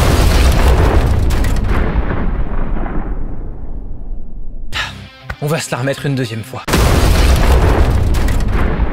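A loud, booming movie-style explosion effect rumbles and slowly fades, someone speaks briefly, then a second heavy blast roars in.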